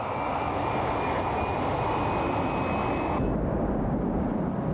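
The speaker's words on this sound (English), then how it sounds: "Enter the Eurofighter 2000, the RAF's next high-performance fighter." A Eurofighter 2000 jet fighter roars on the runway at an RAF flight test centre outside London, its engine a loud, continuous, broadband rumble with a thin whine above it, dominating the scene with no speech.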